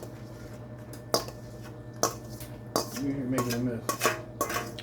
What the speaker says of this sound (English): With my spoon. I spread it all over.